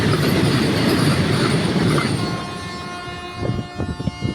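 A train departing a station rolls past with heavy rumbling and high metallic wheel squeal, then rhythmic clacking of wheels on the rails as it moves along.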